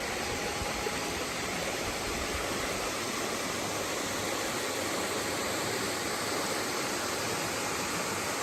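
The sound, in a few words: Hilton Falls waterfall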